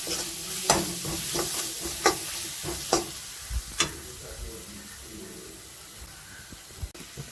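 A chili, coriander and cumin spice mixture fries in a pot while being stirred, soft sizzling under a series of sharp spoon knocks and scrapes against the pot, close and clear.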